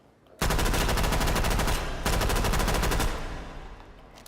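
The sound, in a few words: Thompson submachine gun firing full auto in a VR video game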